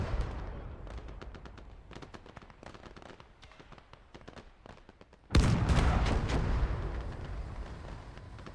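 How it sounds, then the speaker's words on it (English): Pack howitzer artillery fire in the video game Gates of Hell: Ostfront, with a rapid crackle of gunfire and sharp shots, then a loud, heavy blast halfway through that rumbles and slowly fades. "that pack howitzer is just devastating this infantry"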